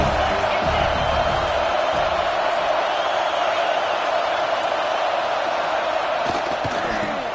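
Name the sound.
stadium crowd cheering in Madden 24 video game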